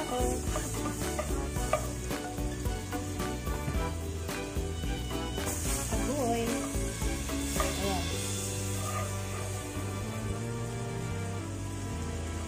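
Butter sizzling and crackling in a pan for garlic butter shrimp, a dense continuous fry with stirring scrapes and a few utensil taps, up close, with no voices.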